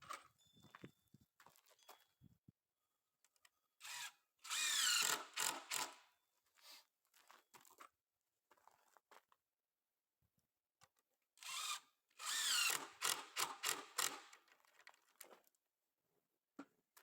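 A power drill drives screws into wooden stairs in two sustained bursts of whirring, each a couple of seconds long, separated by quieter shuffling and handling noises close by.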